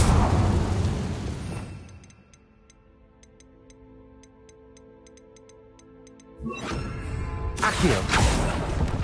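A Confringo blasting spell explodes in a Harry Potter video game: loud, broad fiery bursts open and close the stretch, with a quiet ticking, tonal lull between them.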